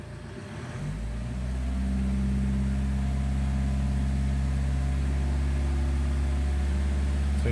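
A Peugeot or Citroen engine with a particulate filter anti-pollution fault idles and then revs up during diagnostics, the drone rising in pitch and settling into a steady, loud hum close to the microphone.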